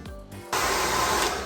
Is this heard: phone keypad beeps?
no